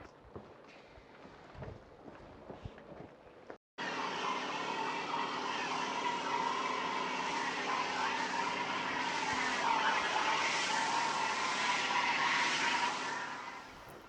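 Karcher K2 pressure washer with a one-litre snow foam lance sprays snow foam onto a Land Rover Range Rover Evoque: quiet rustling, then a sudden, loud, steady hissing spray for about ten seconds that tapers off at the end.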